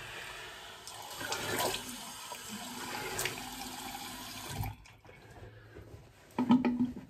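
Cold water runs from a home tap during rinsing after a shave, a steady close splash that breaks off partway, then returns in short bursts near the end.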